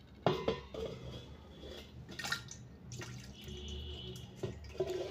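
Water trickles and drips into a bowl as it is poured off ghee, with light clinks of a metal utensil and a soft splash near the start.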